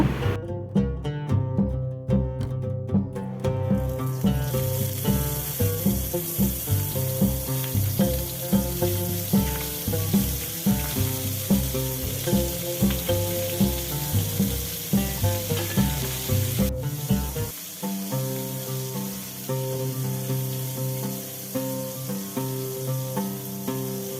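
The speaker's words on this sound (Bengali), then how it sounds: "কড়াইতে সর্ষের তেল দিয়ে দিলাম তারপরে চিংড়ি মাছটা আমি ভেজে নেব" Prawns fry in mustard oil in a kadai, a loud, dense and steady sizzle that runs without a break, partly mixed with background music.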